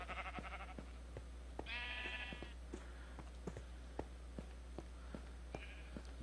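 Several sheep bleats in a blocky survival video game world, two clear wavering calls standing out alongside scattered soft footstep-like taps and a steady low hum.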